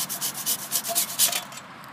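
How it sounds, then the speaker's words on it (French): A hand saw cuts through a tree branch in quick, even back-and-forth rasping strokes, close and fairly loud, with no voices. "Donc il va scier."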